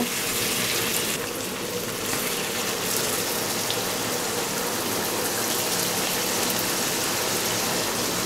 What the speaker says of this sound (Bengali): এখন বটটাকে খুব ভালোভাবে সিদ্ধ করে নেওয়ার জন্য একটু গরম পানি দিয়ে দিব